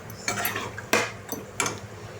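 Mutton curry with a little added water is stirred in a metal pot, four distinct spoon strokes scraping and clinking against the sides at an uneven pace, close and moderately loud, with no voices.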